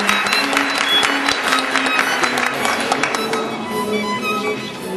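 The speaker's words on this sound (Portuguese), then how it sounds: "uma salva de palmas para ela também" A church congregation at a Methodist service claps for Sister Valquíria, steady mid-level applause with sharp individual claps, tapering slightly toward the end.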